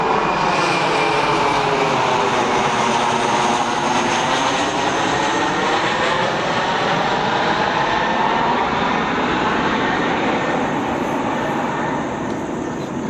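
A big commercial airliner roars low overhead on its landing approach near homes, a loud, sustained engine rumble that fills the whole stretch with a slowly shifting whine, with no talking.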